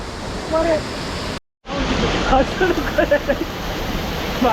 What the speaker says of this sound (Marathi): यो धबधबा आहे धबधबा